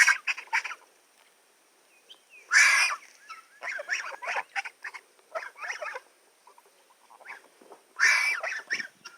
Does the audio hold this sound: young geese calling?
yes